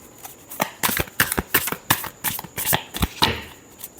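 Tarot cards being shuffled by hand in quick bursts of riffling and slapping, close and crisp, with short pauses between the bursts.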